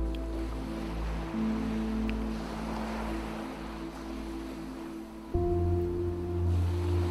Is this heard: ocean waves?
yes